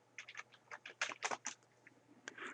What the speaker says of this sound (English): I'm typing in August.